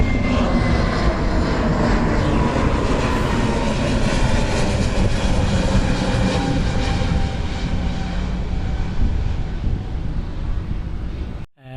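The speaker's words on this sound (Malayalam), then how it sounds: "ഒരു ഫ്ലൈറ്റ് അതാ പോകുന്ന." A fixed-wing airplane passes at Karippur Airport, its loud jet and engine roar holding steady and close for several seconds before cutting off abruptly, with no voices.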